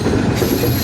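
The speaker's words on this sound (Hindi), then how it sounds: "सामने ZQ30 के साथ 13 अप अवाम एक्सप्रेस गुजर रही है" The 13 Up Awam Express passes behind a ZQ30 locomotive near Kotri Junction as a close, loud, continuous rumble of rolling wheels and rail noise in a very brief burst.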